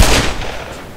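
A single loud gunshot from the video game Black Mesa, a close, sharp blast that decays quickly within a second, with no voices.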